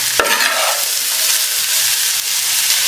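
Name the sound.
stirring mint leaves in a frying pan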